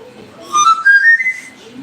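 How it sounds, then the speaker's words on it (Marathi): A short whistle rising and wavering in pitch for about a second, fairly close, with faint background noise and murmuring around it. "मम्मी आम्ही असं करून शिट्टी वाजवू शिकला"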